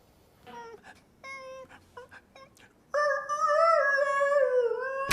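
A cartoon puppy left alone in the kitchen whimpers in short high whining cries, then breaks into a long, loud, wavering howl-like wail that builds toward the end.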